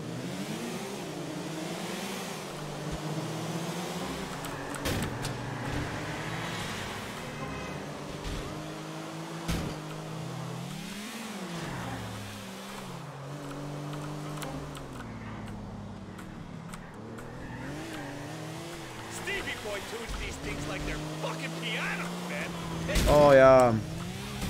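Car race in GTA IV, with several car engines revving and shifting through gears under continuous talk. There is a loud burst of engine noise near the end.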